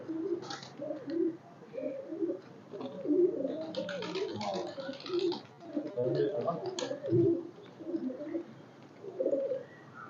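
Breeder pigeons coo in repeated soft, throaty phrases, several birds overlapping close by, with occasional faint chirps and a voice talking quietly underneath.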